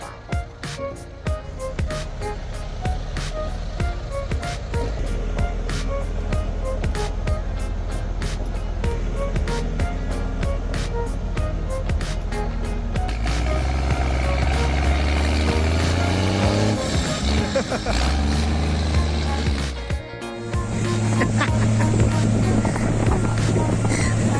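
Powerful New Holland tractor engines roar and strain together while pulling a stuck logging truck out of thick forest mud, a loud continuous drone that shifts in pitch as the engines labor.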